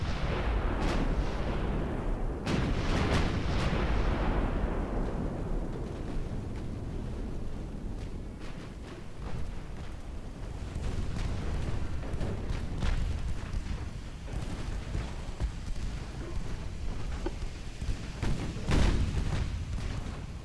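Heavy naval guns fire repeatedly at a battleship in the Ultimate Admiral: Dreadnoughts game, with deep booming salvos and rumbling impacts that swell and fade over a sustained barrage, no voices present.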